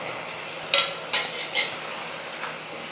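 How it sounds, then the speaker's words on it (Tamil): Boiled potato pieces tossed into simmering masala in a pan for a Tamil-style potato fry, with a few sharp scraping stirs of a spoon against the pan over a soft, steady sizzle. "இந்த உருளைக்கிழங்கு சேர்த்துக்கிறேன்."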